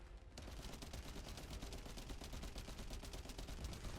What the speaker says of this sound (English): here is me trying to shoot the battery on that leg